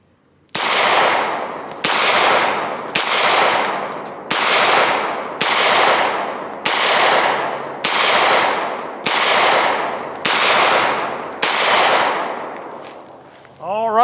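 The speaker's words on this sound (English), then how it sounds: "Loaded up Taurus 10 rounds on steel targets." Taurus TH45 .45 pistol fired at steel spinner targets outdoors at a range: ten sharp, loud shots at a steady pace about a second and a half apart, each ringing out into a long decaying echo.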